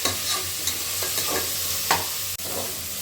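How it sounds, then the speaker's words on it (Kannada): Chilli and seasonings frying in a pan for egg rice, a close, steady sizzle with periodic scrapes of a stirring spoon and one sharp knock near the end, and no voices. "ಅದು ಸ್ವಲ್ಪ ಚೆನ್ನಾಗಿ ಫ್ರೈ ಮಾಡ್ಕೊಳ್ಳೋಣ"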